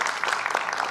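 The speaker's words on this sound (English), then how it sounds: "let's give them a round of applause and make them feel welcome" Brief, even applause from an audience welcoming panelists at a community conversation at the Civil War Museum, a soft continuous wash of many hands with no voices over it.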